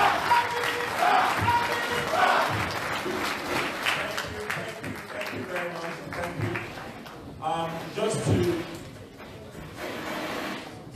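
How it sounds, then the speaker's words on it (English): A crowd at a town hall meeting breaks into applause that swells early and then fades, with spoken voices and cheering mixed in near the end. "let's give him a round of applause"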